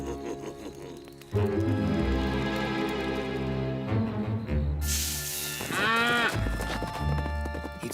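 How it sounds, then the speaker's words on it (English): A cartoon cow moos amid a busy soundtrack of music and effects, the low drawn-out bellow rising out of the mix with hoof-like clops and scattered noises around it. "this cow isn't very helpful"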